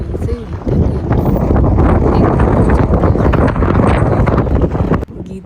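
Strong wind roars steadily across the microphone in Jomsom bazaar around midday, a loud, continuous blustery rush that starts abruptly after a brief quieter moment and cuts off near the end.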